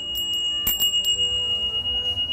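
Small bell from Tokyo, Japan, struck a few times in quick succession, its bright ringing tone sustaining and slowly fading with a steady shimmer, close and clear with no talking.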